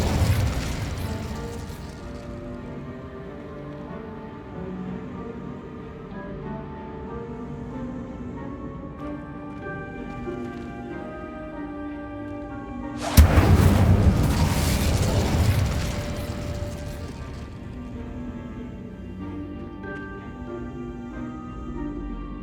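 A fire spell explodes in the fantasy video game Hogwarts Legacy, a sudden loud burst and roar that fades over several seconds, rising out of ongoing game music and ambience.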